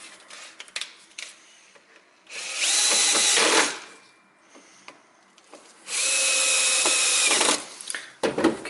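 A power screwdriver drives screws into a cable clamp during final assembly of a homemade engine, two sustained whirring bursts close by, separated by quiet handling noises.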